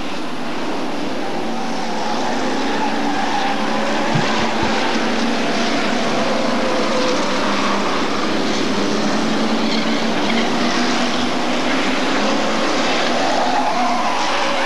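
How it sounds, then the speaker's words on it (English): Hotstox race cars racing around an oval track in Birmingham, a loud, continuous roar of engines and tyres that holds at full level for the whole stretch, with no commentary over it. "Pete Scott losing a wheel right at the end."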